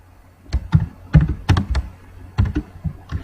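Computer keyboard typed in short clustered bursts of keystrokes with brief pauses between, close and fairly clear, no talking over it.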